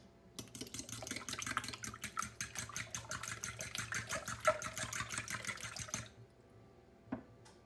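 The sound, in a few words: stirring eggs in a bowl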